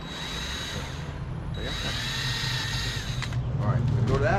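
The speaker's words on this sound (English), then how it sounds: "I'm going to drill that one" A power drill bores rivet holes in Ford Model A emergency brake parts at a club tech session, running steadily with a whining tone and brief pitch shifts, continuous and fairly loud throughout.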